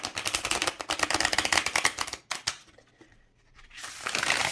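A deck of cards being riffle-shuffled close up, a dense run of fast crisp flutters that stop abruptly, then a brief quiet gap before another rustling riffle builds at the end.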